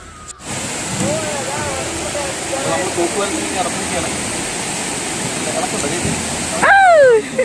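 Water released from Malampuzha dam rushes beneath a footbridge in a steady, loud roar, with voices talking over it.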